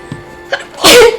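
A single loud sneeze bursts out near the end, preceded by a couple of soft breaths and small vocal sounds.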